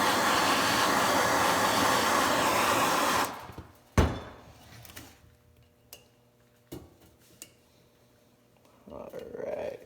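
A gas torch roars loudly while heating a 3/4 inch brass valve for brazing, then cuts off abruptly, followed by a few sharp metallic clinks and quiet handling noises.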